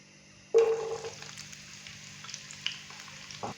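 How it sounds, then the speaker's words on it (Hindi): Finely chopped onion drops into warm oil in a kadai and gives a sudden soft sizzle that fades to a quiet, steady crackle, with a few light stirring taps toward the end. "प्याज को हम 2 से 3 मिनट के लिए हल्का सा फ्राई करेंगे ताकि प्याज थोड़ा सा नरम हो जाए।"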